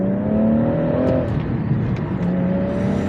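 A manual BMW M140i pulls hard in third gear, its engine note climbing steadily and loud from inside the car, then settling as the pull continues.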